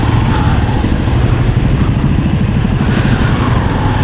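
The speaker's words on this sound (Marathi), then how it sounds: "इकडे पण ट्रॅफिक लागलं आहे." Road traffic stuck outside a Marathi-medium school during morning hours: a continuous close, loud rumble of idling engines, motorcycle-like and steady, with no talk over it.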